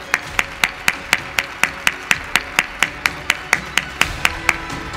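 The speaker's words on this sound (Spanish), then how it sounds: "Rector, un fuerte aplauso también para él" Steady, evenly spaced claps ring out at an award gala, about four sharp hand claps per second, close and clear with no talking.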